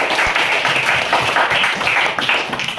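Classmates clap for a student in a classroom, a continuous, fuller round of hand clapping, close and fairly loud, sustained for the whole stretch with no distinct talk.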